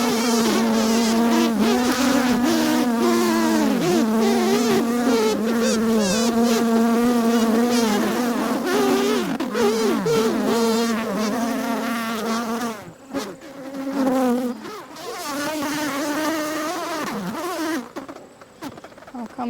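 A swarm of honeybees buzzes loudly and steadily as it moves into a hive, a dense, continuous drone close by that thins briefly near the end before swelling again.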